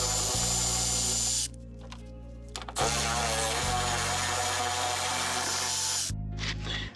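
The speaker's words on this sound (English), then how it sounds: "So let's go ahead and unbolt this." A power tool unbolts the AC fan on a C4 Corvette with a 5.3 engine swap, running in long whirring bursts with brief pauses between them, close and loud, with no talk.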